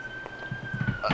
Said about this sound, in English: That's a fire truck. I live next door to the fire station